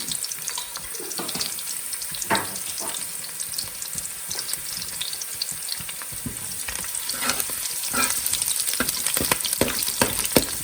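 Onions and cumin seeds frying in a pan for mutton karahi make a loud, continuous sizzle and crackle, with frequent spoon scrapes and clicks throughout.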